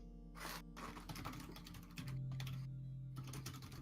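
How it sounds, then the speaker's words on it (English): Furious typing on a computer keyboard, rapid bursts of close clattering keystrokes with brief pauses between flurries, heard alone over a faint steady background hum. "furious typing."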